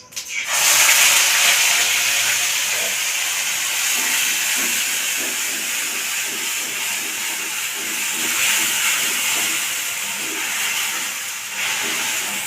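Onion paste fries in a pan for chicken rezala, a loud steady hissing sizzle that bursts in at the start and continues evenly, with faint scraping underneath.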